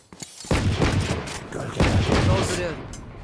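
Rapid gunfire from the video game Valorant, bursts of shots with booming thuds packed together, loud and close, with a player's voice talking over the shooting.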